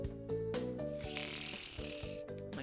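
Characters in the video game Trials of Mana Remake snore in a loud, steady rhythm of repeated rumbling breaths, set over in-game background music.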